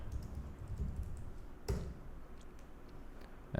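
A computer keyboard clicks out a command in quick, light, irregular keystrokes, one sharper tap standing out midway, close and fairly quiet.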